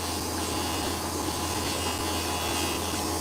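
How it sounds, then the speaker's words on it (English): An ordinary desk sander grinds opal on sandpaper, giving a steady, continuous abrasive rasping hiss with a constant motor hum underneath, close and even throughout with no talking. "Basically it's an ordinary desk sander."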